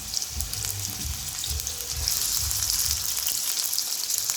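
Garlic, tomato pieces and dried red chillies fry lightly in a pan, giving a steady soft sizzle and crackle with faint stirring, close and continuous.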